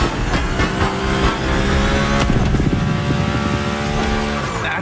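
Game car sliding through a gymkhana course in The Crew Motorfest, its engine roaring and revving loudly and continuously with tire noise, no voices.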